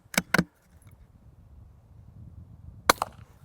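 A pair of sharp, muffled shots in quick succession from a short rifle fitted with a Dead Air Ghost suppressor, then quiet, then another close pair of suppressed reports near the end.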